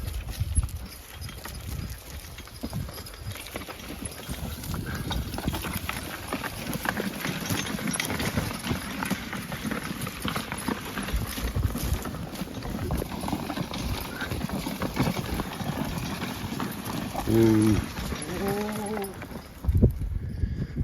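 Plow horses walking in harness, with steady hoof clip-clops running under outdoor noise and a few snorts near the end.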